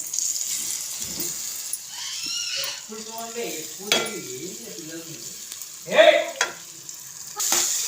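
Grated raw mango frying in hot oil with tempering spices, a steady close sizzle with stirring clatter, while a voice talks over it.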